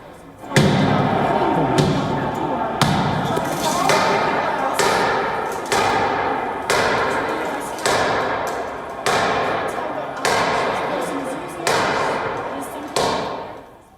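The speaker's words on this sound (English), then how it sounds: "They were literally banging the doors of the Congress." A mob bangs on the doors of the US Capitol, a series of about ten heavy, booming thuds at a steady rhythm, loud and echoing over a constant crowd roar.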